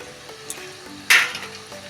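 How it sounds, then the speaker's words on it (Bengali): Oil bubbles and sizzles softly as langcha sweets made from wheat flour and semolina deep-fry, with a brief louder crackling burst midway and faint scattered pops throughout. "যত ভাজা হচ্ছে ফুলে উঠছে এখনো এটা ধীরে ধীরে ভাজতে হবে"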